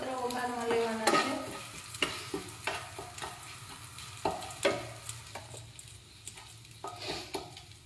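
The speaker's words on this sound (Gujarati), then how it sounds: "આ રીતે જીરું અને તમાલપત્ર વઘારમાં લેવાના છે." Cumin seeds and bay leaves sizzle in hot oil for a tempering, a steady crackle broken by repeated scraping strokes of a spoon against the pan.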